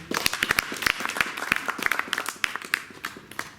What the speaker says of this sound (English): let's give rounds of applause for Mr. Shingi.